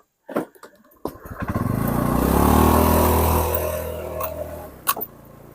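A motorcycle engine, just turned around on a rural village road, starts up after a few knocks, revs up to a loud, close rumble, then settles and eases back toward idle.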